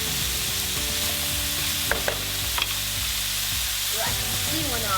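Ribeye steak browning in a hot pan gives a continuous close sizzle, with a few quick crackles and spits scattered through it.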